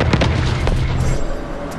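Heavy booming anti-aircraft gunfire pounds in rapid, rumbling bursts, loud and echoing like distant artillery rolling across the sky.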